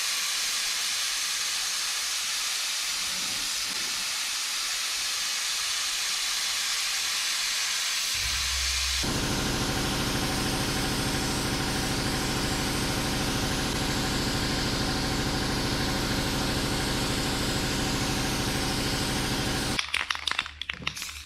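A spray gun lays a medium wet coat on the bodywork of a 1959 Dodge Coronet, giving a steady close hiss that shifts to a fuller, louder hiss partway through and ends in short sputtering bursts.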